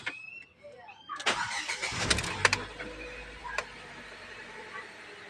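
A 2017 Ford EcoSport with a check-engine and low-power fault starts with a cranking burst, then settles into a steady idle. The engine is close and fairly loud, and a voice is heard nearby.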